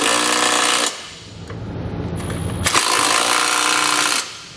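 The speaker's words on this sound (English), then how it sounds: "And then we'll grab our socket and tighten out the flange nuts." A power socket tool drives the flange nuts while a trailer hitch is fastened to a vehicle, with two loud close rattling bursts of impact-style hammering separated by a short pause.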